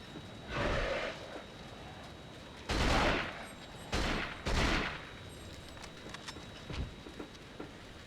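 Submachine gun fire from the PS2 game Cold Fear comes as a few short, sharp bursts separated by quiet gaps, punchy and close, with a faint steady hum underneath.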